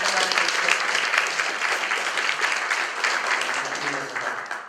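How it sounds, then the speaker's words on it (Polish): Audience applause at a concert hall event, dense sustained clapping from a crowd, loud and continuous throughout with no voices over it. "Proszę o oklaski i o serdeczne przyjęcie."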